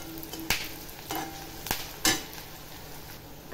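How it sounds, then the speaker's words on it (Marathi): Onions and curry leaves fry in a pan with a steady close sizzle, broken by several sharp scraping knocks of a spatula against the metal. "हे बघा, कांदा परततोय तेव्हाच मी हे टाकते, कढीपत्ता टाकते।"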